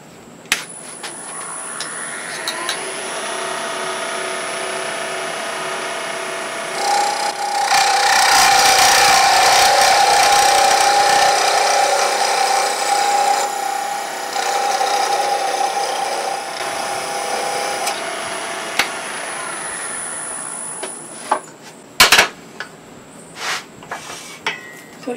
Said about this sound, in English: The bearing is free, so I can part that off.